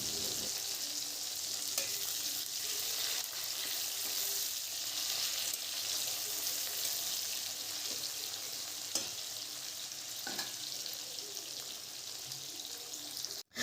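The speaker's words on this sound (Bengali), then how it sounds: "কড়াইতে তেল দিয়ে দিয়েছি, তার মধ্যে একটু অল্প কালো জিরে দিয়েছি, আর পেঁয়াজ আর টমেটোকে আগে আমি একটু ভালো করে ভেজে নেব।" Onions and tomatoes fry in oil with black cumin in a kadai, a constant bright sizzle with occasional faint stirring taps, steady and close without voices.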